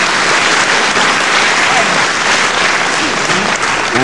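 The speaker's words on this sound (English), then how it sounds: "deserved applause from the packed crowd here at Westcliff-on-Sea" Packed crowd at a televised wrestling match in Westcliff-on-Sea applauding steadily, a dense, loud wash of clapping that fills the whole stretch without a break.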